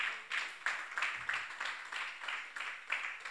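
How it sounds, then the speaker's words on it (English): A congregation at a church prayer meeting claps along in a steady rhythm, soft and somewhat distant, with no talk over it. "clap your hands for yourself if you were there"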